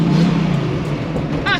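A 1000bhp turbocharged LS V8-swapped Datsun 280Z pulls past with a loud, brief surge of engine noise that fades quickly, and a short chirp comes near the end.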